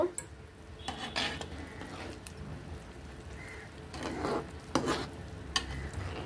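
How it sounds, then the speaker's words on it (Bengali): Fish and mango curry, made with small chela fish and now topped with coriander leaves, is stirred in a pot. A utensil scrapes and clinks against the pot in scattered strokes over a soft, steady simmering hiss, with no voices. "এখন আবার আমি ধনেপাতা দিয়ে দিলাম, আর একটু দিয়ে একটু নাড়াচাড়া দিয়ে নেব।"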